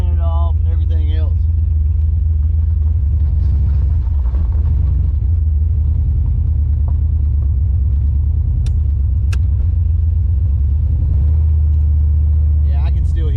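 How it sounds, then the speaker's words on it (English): Car engine with an occasional misfire rumbling steadily and loudly from inside the vehicle for the whole stretch, with people talking over it. "Thing has a misfire to it every once in a while, and then it'll kind of go away"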